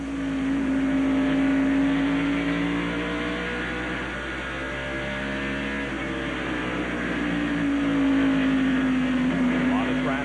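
NASCAR Winston Cup stock cars racing at Bristol at night in 1995, loud sustained engine roar with pitch sweeps as cars pass, under continuous race commentary.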